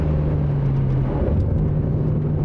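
Alpine A110S sports car engine on a track, a steady loud drone with a sustained low tone throughout, no speech.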